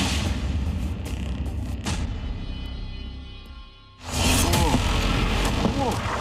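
A missile strike on a city ends in a sudden, heavy explosion that bursts loud after a brief lull, then rolls on as a sustained roaring rumble.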